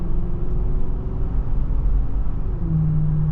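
A 2007 Lincoln Town Car idles with its engine and exhaust running, a steady close, loud low rumble holding an even drone throughout with a slight tonal shift near the end and no voices.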